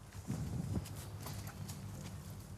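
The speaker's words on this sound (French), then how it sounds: "S'occuper des chevaux le matin, je peux pas commencer la journée autrement que comme ça." Horses tended by a rider in the morning, hooves clip-clopping on the ground in an uneven walking rhythm, fairly close, over a steady low rumble of background noise.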